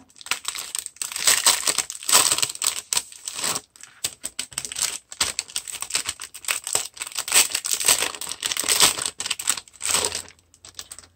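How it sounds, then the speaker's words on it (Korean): Plastic packaging of tatting lace shuttles is torn open by hand, loud close crinkling and ripping in irregular bursts with brief pauses, no talk. "이것도 한번 뜯어볼게요."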